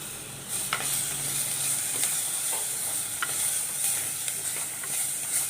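Onions and curry leaves with a small tomato fry steadily in a pan for a squid curry, a continuous close sizzle broken by a few sharp scraping stirs, with no talking.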